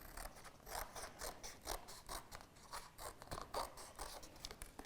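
Scissors cutting a big swirly curl shape out of paper, a quiet run of rhythmic snipping and crisp scraping blade strokes, close and steady with no talking.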